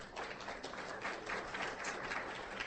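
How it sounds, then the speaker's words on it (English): Faint, distant round of applause at a hybrid meeting, a soft steady patter of clapping with no voices over it. "if we could just give her a round of applause"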